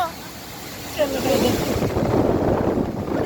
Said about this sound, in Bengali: আর যা হাওয়া হচ্ছে, দারুণ দারুণ দারুণ